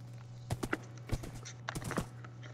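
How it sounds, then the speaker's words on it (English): Horse hooves clip-clopping in Minecraft, a few irregular clopping steps spread over a couple of seconds at moderate volume, with a steady low hum underneath. "I'm just gonna tame this horse real quick"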